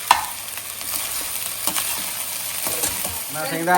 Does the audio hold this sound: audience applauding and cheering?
no